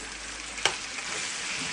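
Steady loud sizzling of red pepper, green pepper, leek and garlic frying in a pan, with a brief clack of a utensil partway through.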